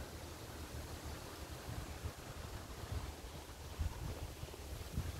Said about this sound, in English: We got some wind here.